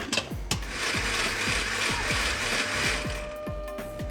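Countertop blender whirring steadily as it purees chili and dried prawns with a little water for a Malaysian dish, a continuous loud motor drone with rhythmic chopping pulses.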